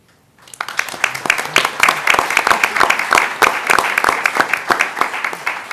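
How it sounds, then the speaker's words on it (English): A round of applause from an audience at an anniversary event for Let's Move! in Indian Country, rising quickly after a near-silent start into loud, sustained, dense clapping with some distinct sharp claps. "the 6 of them that are here today, deserve a round of applause for that."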